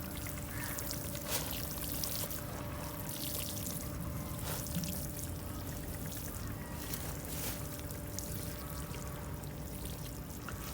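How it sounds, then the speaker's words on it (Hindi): Water pours and trickles steadily onto soil being moistened for sowing seeds, a soft continuous splashing with faint hum in the background. "अच्छी तरह से पानी दे दें"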